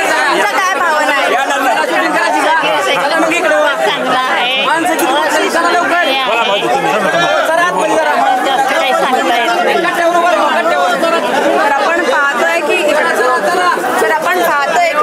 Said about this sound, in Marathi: आपण पाहतोय की गर्दी जी आहे मोठ्या प्रमाणात इथे आपल्याला पाहायला मिळते आहे